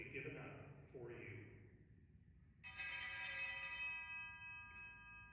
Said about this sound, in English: So you can see the server there rings the bells at the time that the host is elevated.